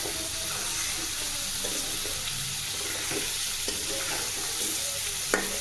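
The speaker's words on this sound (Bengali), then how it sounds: "এখন ভালো করে মিশিয়ে নিচ্ছি মশলার সঙ্গে নাড়িয়ে চাড়িয়ে" Chicken being stirred with spices in a cooking pot, a steady scraping and soft sizzling churn running the whole time at a moderate level, with a sharper clink near the end and no talking.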